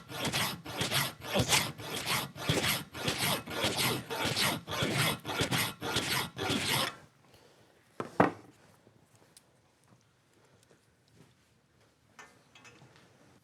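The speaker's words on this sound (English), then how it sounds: "the vise, and filing." Hand filing on an old steel bicycle frame clamped in a bench vise while fitting a disc brake mount: about a dozen steady, even rasping strokes close by, then near silence broken by a single sharp knock.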